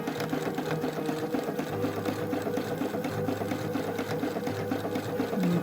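Sewing machine running steadily as it stitches a quarter-inch seam on small doll leggings, a continuous close mechanical whir with even rhythmic ticking throughout.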